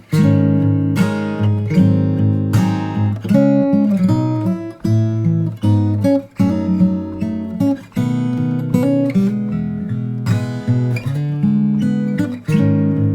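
A solo fingerstyle guitar plays the B section of a song: melody and bass lines ring close and full, phrases pausing briefly between, with no voices.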